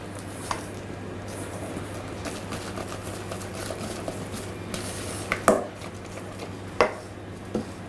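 Macaron batter of sugar, almond powder and whipped egg whites is folded in a bowl, giving soft continuous scraping with a few sharper clacks of the spatula against the bowl, fairly quiet and without speech.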